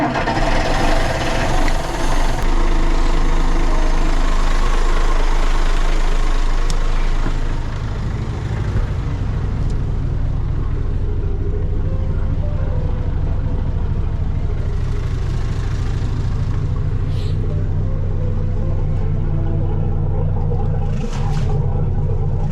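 Marine diesel boat engine, one of a twin pair with heavy exhaust smoke, idling after being started: a steady, loud low rumble that settles in and runs evenly to the end, with no talk over it.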